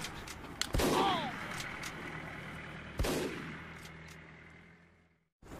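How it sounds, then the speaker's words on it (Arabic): Gunfire in the video game PUBG: sharp single shots crack out near the start and again around the middle, each followed by a decaying echo, with other game sounds underneath. "في إطلاق نار يا شباب."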